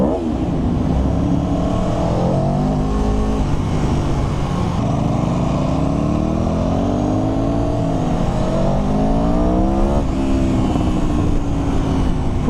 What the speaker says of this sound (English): For a stock exhaust, this is beautiful sounding.